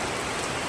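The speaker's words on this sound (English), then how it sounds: "Still rain. My goodness." Steady rain falling outdoors in Nigeria, a soft continuous hiss with no voices.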